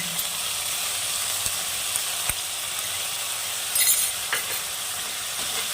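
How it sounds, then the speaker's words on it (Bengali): Green chili paste going into onions frying in a pan, a steady soft sizzle with faint stirring scrapes and a brief louder hiss near the end. "এখন আমি এর মধ্যে কাঁচা লঙ্কা বাটাটা দিয়ে দেব।"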